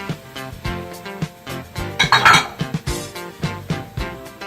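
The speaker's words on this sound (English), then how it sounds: "I give everything a little stir to mix everything together." Pumpkin soup vegetables (leeks, onions, potatoes and chickpeas) being stirred in a cooking pot, heard as a steady series of close clinks and scrapes from the spoon against the pot, repeating in an uneven rhythm with no talking.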